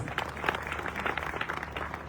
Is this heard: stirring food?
no